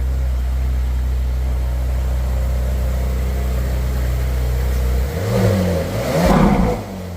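A 2013 Ferrari 458 Spider engine idles with a steady low rumble while warming up, then revs briefly and rises in pitch near the end, loud and close, with no talking.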